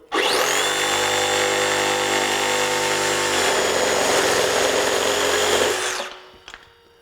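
A DeWalt FlexVolt 20V reciprocating saw cutting through wood, a loud close buzzing whine held steady for about six seconds, its pitch shifting partway through, then the motor winds down and stops.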